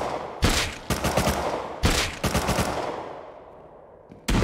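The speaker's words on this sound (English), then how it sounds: "He's shooting at me." Gunfire in the survival video game Rust: a few loud automatic bursts with sharp attacks, each fading into a long echoing decay, and a final burst cut off at the end.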